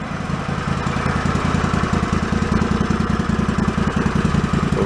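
A John Deere lawn tractor engine idling after a flooding repair, a close, loud, steady mid-pitched putter with an even rapid pulse and slight knocking throughout.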